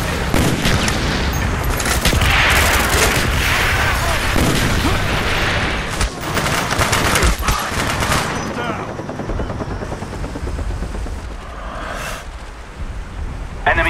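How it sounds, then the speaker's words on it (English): Video game battle with enemy mortar fire: heavy booms and dense gunfire rattle continuously at loud volume, with some in-game voice chatter mixed in. "Enemy mortar team spotted. Take cover."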